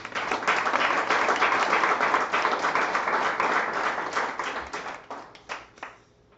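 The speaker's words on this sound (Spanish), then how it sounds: "Denle un aplauso al Señor" A church congregation applauding, a dense burst of many hands clapping together that holds steady for several seconds, then thins out and fades to a few scattered claps near the end.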